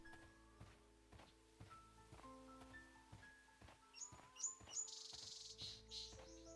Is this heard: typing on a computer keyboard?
no